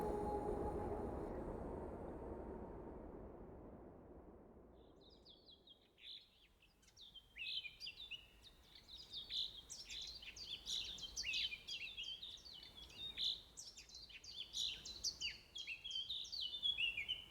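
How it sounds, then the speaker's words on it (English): Bluebirds singing, a busy chorus of bright chirps and warbled phrases that swells after a fading low rumble, fairly close and continuing steadily, with no voices. "awoke to the sound of bluebirds singing"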